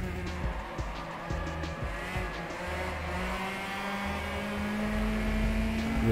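Race car engine revving and droning at Interlagos in a racing game, steady buzzing tone with brief throttle blips and gear changes, rising in pitch toward the end.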